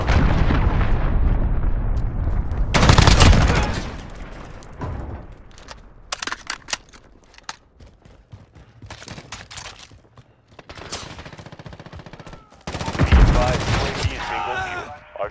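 Cruise missile airstrike in a war video game: heavy booming explosions and bursts of gunfire arrive in loud clusters separated by quieter gaps, with brief radio-style voice callouts between them.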